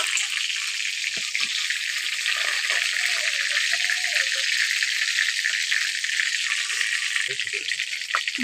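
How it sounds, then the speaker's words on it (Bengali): Chicken pieces lightly frying in hot oil, a loud steady close sizzle with constant hiss throughout, faint clinks and a soft voice underneath. "চিকেনটাকে খুব বেশি ভাজবো না, হালকা করে ভেজে নেব।"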